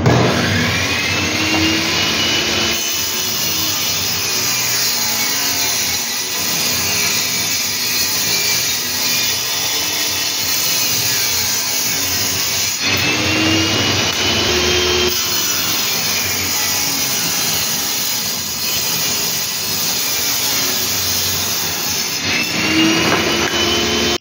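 Power tool cutting material for a round planter, a loud continuous high whine and grinding roar at close range, with slight shifts in pitch as the cut progresses, no talking.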